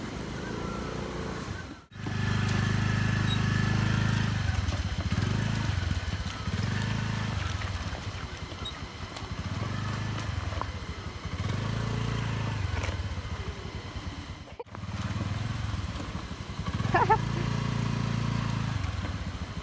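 A scooter engine labours along a muddy, rocky path, its low drone rising and falling in repeated surges of throttle. Faint scrapes and clatter come from the rough ground, and the motor cuts out briefly twice.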